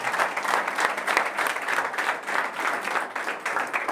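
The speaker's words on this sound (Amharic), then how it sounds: "አጨብጭቡ ለጌታ" A church congregation claps together in praise, a lively, rhythmic wave of many hands beating in steady pulses, moderately close and carrying on throughout.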